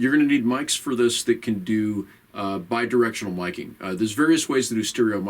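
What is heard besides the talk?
No distinct noise like a dog, phone or traffic.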